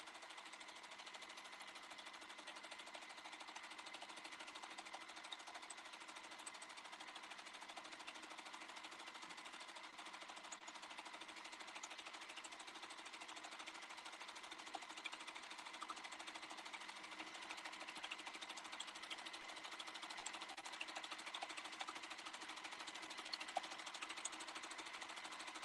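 A sewing machine stitching a quilt, running at a steady fast pace as a continuous even mechanical whir with rapid needle clatter, close and fairly quiet, with no talking.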